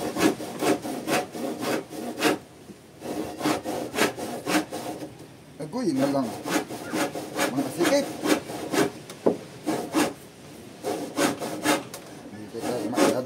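A hand saw cuts through wood while a boat is torn apart, its back-and-forth strokes steady and close, pausing briefly midway before resuming, with a few short spoken words.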